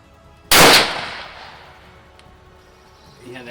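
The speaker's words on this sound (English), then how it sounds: "now let's go take a second shot, trying to do it the wrong way by sticking my whole finger in there and shooting it" A single loud rifle shot cracks outdoors at close range, followed by a fading echo and quiet afterward.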